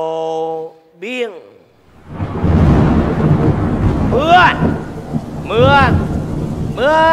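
A stage show's thunder and heavy rain sound effect: a loud rumbling crash rolls into a dense downpour that continues throughout, with sung vocal phrases rising over it.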